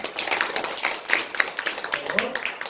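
Church congregation clapping for the children at a Sunday service, a dense, continuous patter of many hands filling the room for a few seconds, with some voices mixed in.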